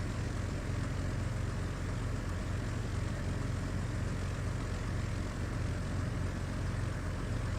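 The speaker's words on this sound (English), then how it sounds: "Oh, look, there's a plane coming." A propeller plane drones steadily overhead in Flight Simulator 2000, its engine a constant buzzing hum with no talking.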